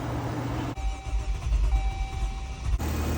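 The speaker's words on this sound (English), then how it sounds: "I got it to start. Car is running. Hear it?" A 2012 Jeep Grand Cherokee with a 3.6L engine and a blown head gasket idles roughly after starting, a low steady engine rumble heard close by with faint mechanical whine.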